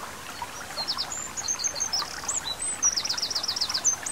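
Birds chirp and trill in quick, bright bursts across a country meadow, close and clear, over the soft steady trickle of a nearby stream.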